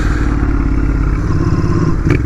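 A Royal Enfield motorcycle is ridden along, its engine a steady, loud, close drone with a faint clatter near the end.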